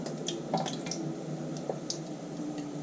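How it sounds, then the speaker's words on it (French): Cauliflower soaked in batter and set into hot oil, with wet squishes and small drips and light sputters close by, fairly quiet throughout. "on imbibe à chaque fois le chou-fleur et on le pose dans l'eau, dans l'huile"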